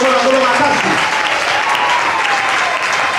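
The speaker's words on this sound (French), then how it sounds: "On acclame le Seigneur très fort." A church congregation claps loudly and steadily in dense, continuous applause that fills the room, with voices mixed in.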